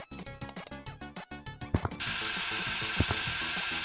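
Rapid mechanical clicking and whirring bursts in quick succession, then a steady loud drilling drone with occasional thumps; no voices.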